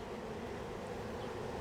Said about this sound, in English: I'm going to brush these bees away.